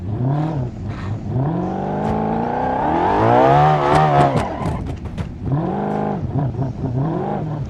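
A badly damaged, flattened car drives in BeamNG Drive, its engine droning and rising in pitch as it accelerates, then falling and revving again, loud and continuous with scattered clunks and scrapes.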